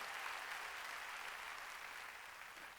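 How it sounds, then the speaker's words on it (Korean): Congregation members at a Korean church's Wednesday worship service clap together in a sustained, even burst of applause, fairly faint and continuous for the whole stretch. "깨달은 사람만 박수치라고요."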